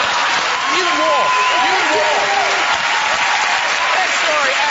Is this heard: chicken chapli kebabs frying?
no